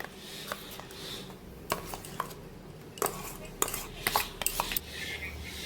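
Palm fruit pulp goes into a large bowl with scattered light clinks and knocks of a utensil against the dish. The clatter is soft, irregular and close by, with quiet pauses between the taps.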